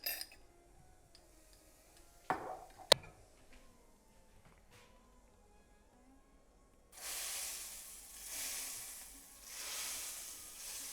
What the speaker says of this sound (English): I'll wait for this to sizzle before I add some chili powder.